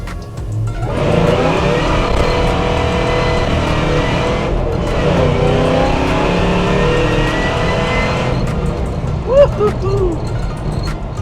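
Supercharged LT4 in a 1971 Chevy Chevelle SS with a 5-speed, accelerating hard, a loud sustained engine roar rising through the gears, with a short pause at a shift and voices near the end.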